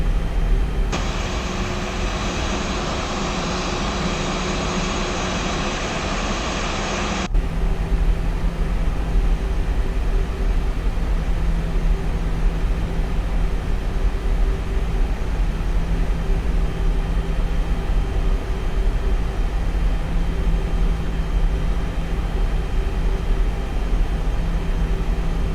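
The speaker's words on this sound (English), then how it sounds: "We're doing a toga takeoff, meaning we'll be taking off with maximum thrust." FlightFactor A320 jet engines at maximum takeoff thrust in the X-Plane 11 flight simulator give a steady, loud, broadband roar that lasts the whole clip, with a brighter extra layer over the first seven seconds.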